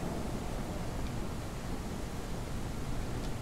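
Heavy rain pours outside a tent on a cold night in the Ranch Simulator video game, a dense, unbroken hiss that stays steady and close, with no voices over it.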